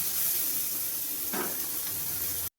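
Onion, capsicum, green chilli and garlic frying in a pan for a restaurant-style chilli fish, a continuous close sizzle with one brief stirring scrape midway, ending abruptly.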